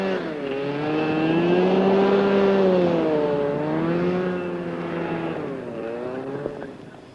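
Engine and thrust fan of a Pindair Skima 4 hovercraft drone loudly and steadily, pitch swelling and dipping as it works, then fading slightly toward the end, with no voices.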